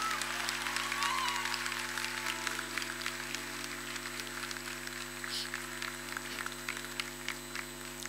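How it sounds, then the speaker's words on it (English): Audience applause at a Manish Malhotra fashion show, a sustained, fairly soft patter of clapping over a steady low hum from the venue, continuing evenly across the whole stretch. "a thundering round of applause for the man of the moment, Manish Malhotra."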